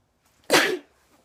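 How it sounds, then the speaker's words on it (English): A single sharp sneeze bursts out close by, loud and brief, with quiet surroundings before and after. "I gotta sneeze."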